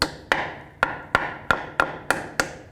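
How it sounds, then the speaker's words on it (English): Hammer tapping a block of wood against the axle cover while installing a front CV axle on a 1996–2004 Nissan Pathfinder: eight sharp, evenly spaced knocks, close and clear, with short ringing decays and no talk. "I'm just going to take a piece of wood, give it a tap with a hammer just to not damage the cover."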